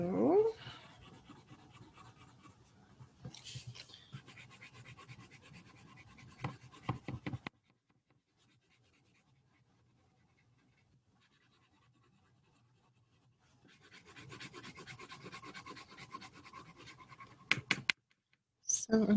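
Crayon scratching and rubbing over the edges of a drawing onto a scratch sheet of paper, heard in close bursts before and after a quiet stretch.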